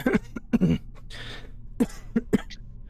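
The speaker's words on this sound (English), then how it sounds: "He coughs." A man coughs several times in short, rough bursts, clearing his throat between them, close and fairly quiet.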